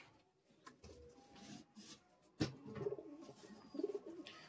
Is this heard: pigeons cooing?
yes